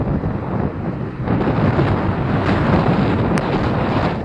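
Typhoon winds hammering the microphone on the coast of Belison, Antique, with large waves crashing and surging. The roar is loud, steady and broadband, swelling stronger after the first second, and no one speaks.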